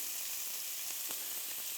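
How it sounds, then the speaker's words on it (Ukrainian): Soft, steady sizzling of finely chopped onion frying in a pan, close up, with a few faint stirring scrapes and no voices. "ми беремо цибулю, міленько порізану і присмажуємо її"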